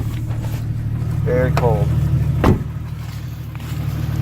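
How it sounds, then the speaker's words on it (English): Jeep truck with a replaced head gasket idling while it warms up on a cold early morning: a steady low engine hum runs throughout, fairly close, while someone speaks briefly over it. "It's early in the morning, letting my truck warm up"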